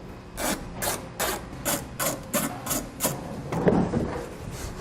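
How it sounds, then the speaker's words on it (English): A ratcheting driver backs out T15 Torx screws from a 2018 GMC Sierra 2500 truck fender liner, giving about nine evenly spaced, crisp clicking bursts close up, then a brief scrape, with no talking. "You're going to have 12 T15 Torx bit screws that are holding it in place."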